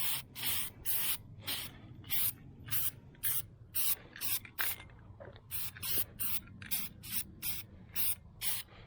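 Short bursts of an aerosol spray can laying light dusting coats on a 1978 Chevy Nova car part, a quick rhythmic run of hissing puffs with brief gaps, close by and with no speech.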